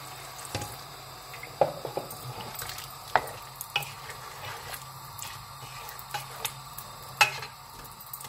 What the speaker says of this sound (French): Et on va venir mettre à peu près 300 ml d'eau pour que ça mijote tout doucement.